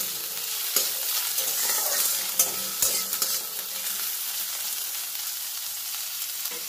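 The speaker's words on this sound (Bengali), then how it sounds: "রসুনের কোয়া আর পেঁয়াজটা একটু ভাজা ভাজা করে নেব।" Garlic cloves and onion frying in a pan, a steady hiss broken by a few sharp utensil scrapes and pops early on, then settling into an even, quieter sizzle.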